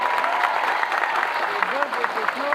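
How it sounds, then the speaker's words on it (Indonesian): Audience applause at an outdoor Islamic sermon gathering in a park in Taichung, Taiwan, a dense steady patter lasting a few seconds with a voice carrying over the clapping. "tepuk tangan untuk beliau"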